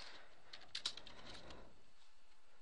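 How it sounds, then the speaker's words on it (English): A loud computer keyboard being typed on at a desk, giving a brief run of sharp clicking keystrokes with a couple of louder taps near the start, over a steady background hiss. "Sorry about my loud keyboard."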